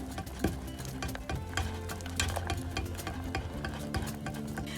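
Custard cream with eggs being stirred in a pot off the heat, a quiet run of scraping and clicking spoon strokes against the pot with a faint sizzle underneath, close and continuous.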